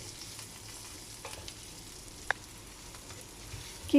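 One large onion fries in oil previously used for frying dried anchovies, a steady moderate sizzle with occasional light stirring taps and a single sharp clink of a utensil against the pan.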